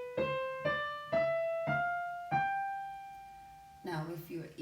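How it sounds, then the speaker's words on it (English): A piano plays a rising scale on all white notes starting from G, five evenly spaced clear notes ringing out, the last held longer, before a voice begins speaking at the end. "now if I play all white notes starting on G, it will sound like this."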